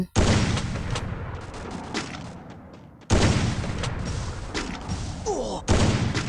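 Gunfire in a Counter-Strike ranked match: loud, dense bursts of shots in two long volleys separated by a brief gap near the middle, with a final burst at the end.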